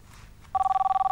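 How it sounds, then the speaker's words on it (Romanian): A telephone rings close by in a quiet room, a steady electronic two-tone trill with rapid regular pulses that starts partway through and keeps going. "E telefonul Măriucai"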